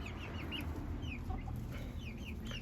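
Young chickens and a mother hen clucking and chirping at a roost about four to five feet off the ground, a busy stream of short calls close by, without any talk.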